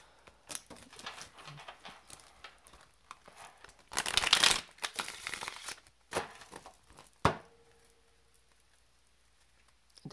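Tarot cards are shuffled by hand, with a dense riffling burst in the middle, scattered soft flicks and taps around it, close by and otherwise quiet.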